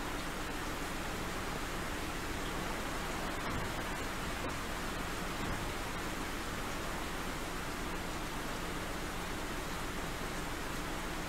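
Heavy rain in the video game Stormworks, a steady, dense hiss that runs unbroken and fairly faint, with no thunder and no voices.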